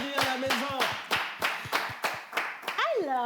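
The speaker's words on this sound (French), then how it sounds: "Qu'est-ce qu'on peut vous offrir d'autre que des applaudissements bien mérités?" Rhythmic clapping from an audience welcoming guests onto a French-language radio show, about ten evenly spaced claps, with a voice humming or talking over them throughout.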